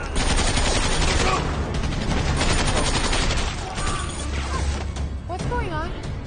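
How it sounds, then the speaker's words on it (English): Gunfire in an action movie scene, dense bursts of rapid shots layered over a loud, continuous mix of crashes and mechanical noise, with voices shouting in the chaos. "Sergeant, who's shooting?"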